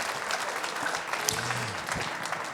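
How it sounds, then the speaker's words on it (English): An audience applauds the performers at the close of a Belfast–Nashville songwriters show, a steady, full wash of clapping from a crowd that holds evenly throughout. "Give them a big round of applause to round the night out."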